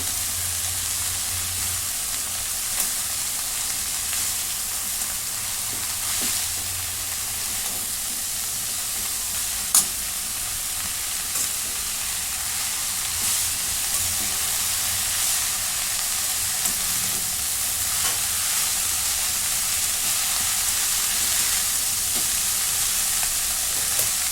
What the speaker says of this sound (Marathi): आता भाजी सर्व मिक्स करून घेते